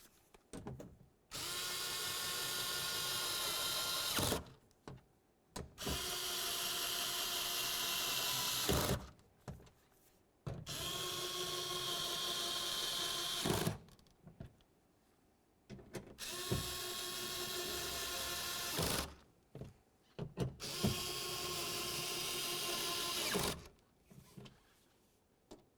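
Power tool snugging door mounting bolts on a 2009-2020 Dodge Journey during window regulator replacement, running in five loud sustained whirring bursts of several seconds each, separated by short pauses.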